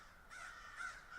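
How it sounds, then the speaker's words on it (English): Crows caw in the Dead by Daylight video game, two or three harsh calls in quick succession, faint and distant-sounding with no talking. "Crows again."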